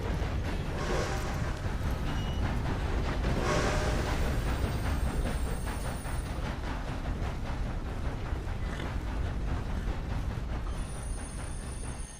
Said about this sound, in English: Oh, that's the train right now, actually.